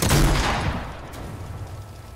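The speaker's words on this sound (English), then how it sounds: "You do know there's another squad shooting each other fucking on the other side of the fucking hill" Squads trade gunfire across a hill in a Fortnite battle royale match, heard as a dense, loud burst of rapid shots that fades into a rumbling, echoing tail.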